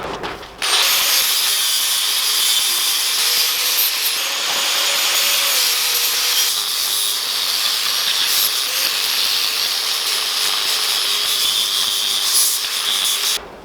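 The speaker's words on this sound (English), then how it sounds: "I'm going to scrape all that off before I weld it" Galvanised coating being scraped off steel before welding, a harsh, sustained abrasive grinding with squealing edges that runs loud and close almost without pause for the whole stretch.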